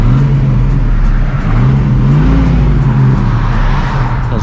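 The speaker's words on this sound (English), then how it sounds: "Does sound nice, this car." A 1954 Wolseley 6/80's straight-six engine revs steadily in first gear, a loud, close, continuous drone with rising and falling pitch and no talking over it.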